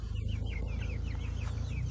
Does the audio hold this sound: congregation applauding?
no